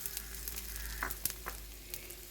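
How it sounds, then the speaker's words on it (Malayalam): Dried shrimp hitting hot coconut oil in a pan, a faint steady sizzle with a few sharp pops and spits scattered through, quiet and close, no talking. "എണ്ണ ചൂടായിട്ടുണ്ട് ഇതിലേക്ക് ചെമ്മീൻ ഇട്ട് കൊടുക്കാം"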